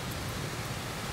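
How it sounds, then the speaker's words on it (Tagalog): Heavy rain and strong wind roar as a steady, dense wash of noise. It is loud and even throughout, with no pauses and no voices. "Ang lakas talaga ang ulan at saka hangin."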